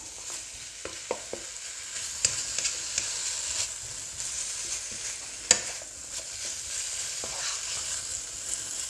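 Pork and spring onions sizzle and fry in a pan while being stirred, with a steady crackle broken by scattered scraping clicks and taps of the utensil, close and fairly loud.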